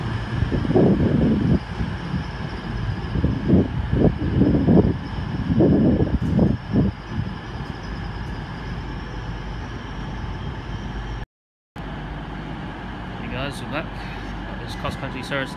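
A Class 220 Voyager diesel train at Southampton Central station, a steady engine rumble and rolling drone that holds under someone talking over it through the first half.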